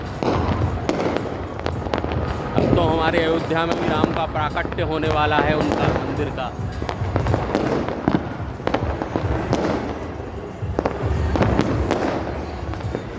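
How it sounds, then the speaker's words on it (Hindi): Repeated firecracker bangs and crackling fireworks going off all around during Makar Sankranti in Jaipur, loud and continuous, while someone talks excitedly over them. "पटाखे ही पटाखों की आवाज़ें सुनजायमान हो रही हैं चहु ओर दिशाओं में"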